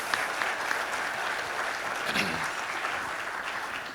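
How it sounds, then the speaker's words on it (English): An audience at a chamber of commerce breakfast event claps for school district staff and board members, a moderate, even patter of many hands that stays level for a few seconds. "if we can give them a round of applause"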